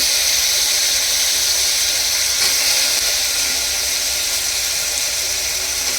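Mixed vegetables (potato, cauliflower, carrot and peas) stir-frying over a high gas flame in a pressure cooker, giving a loud, steady, unbroken sizzling hiss with no talk.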